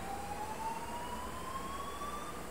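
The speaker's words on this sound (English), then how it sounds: "I don't know if you can hear that, but that's the fire alarm." A faint fire alarm tone sounds steadily, its pitch creeping slowly upward, heard over a constant background hiss.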